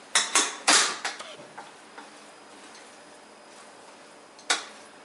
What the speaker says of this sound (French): Ensuite, je remue bien le tout.